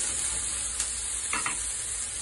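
Shrimp fry in a pan with a steady, hissing sizzle under a couple of faint scrapes, close and even throughout with no talking.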